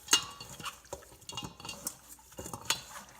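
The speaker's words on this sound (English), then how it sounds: "Just coat them all together, and then you don't waste as much seasoning or your rubs." Chicken wings being tossed with a seasoning rub in a bowl, with light clinks and scraping of a utensil against the dish in irregular bursts, close and fairly quiet.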